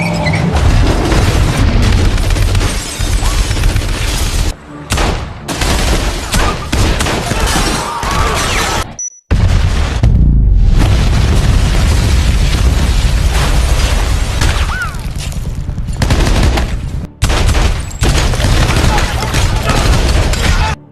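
Gunfire and explosions from a film shootout that runs from a hotel lobby out of the building: loud, dense booms and bursts of shots crowd almost the whole stretch, with brief gaps between volleys.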